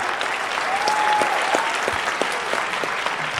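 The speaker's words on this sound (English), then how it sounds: "she's getting claps on every one of her answers" A conference audience at a real estate company's 2023 top-producer event bursts into steady applause that fills the room, with a voice faintly audible beneath it.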